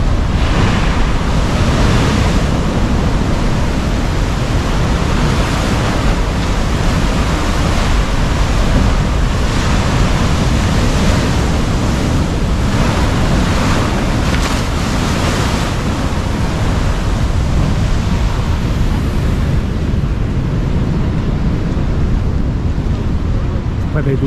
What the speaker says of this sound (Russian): Большая волна набегает.